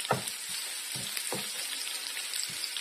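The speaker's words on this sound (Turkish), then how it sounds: "köy biberlerimiz güzelce kızarıyorlar" Village peppers frying in a pan for menemen, giving a constant bright hiss with a few soft popping crackles, close and steady without any talking.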